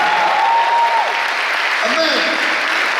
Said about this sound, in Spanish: Deme ese fuerte aplauso.